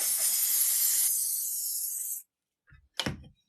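Hairspray from an aerosol can hisses in one steady, fairly loud burst onto model scenery grass for about two seconds, then stops abruptly, followed by a couple of faint handling knocks.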